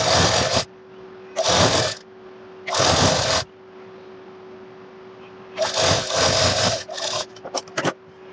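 A sewing machine stitches the hem of a palazzo trouser leg in several short, loud bursts of rapid whirring, separated by pauses with a faint steady hum, ending with a few quick stutters.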